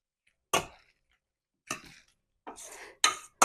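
Chicken liver filling for potato zrazy being mashed with a utensil in a bowl: a few separate close scraping clacks and rasps, spaced out with silence between them, no voices.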